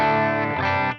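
A sustained, distorted electric guitar chord rings out through a Boss IR-2 amp simulator pedal with a processed amp-like tone, holding steady before cutting off abruptly near the end.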